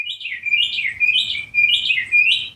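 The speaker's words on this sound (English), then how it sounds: "You hear the bird?" A bird chirps just outside a wide-open window, repeating bright warbling phrases in three or four bursts, close and clear with no talking over it.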